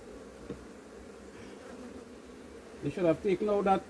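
Honey bees at an open hive frame, a low steady buzzing that swells into louder, closer wingbeat drones near the end, with no speech.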